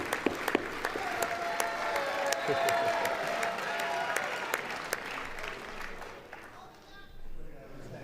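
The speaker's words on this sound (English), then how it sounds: "Keep the clapping going." Sustained applause fills a congressional chamber during a presidential address, a dense crowd of clapping with scattered sharp claps that fades toward the end.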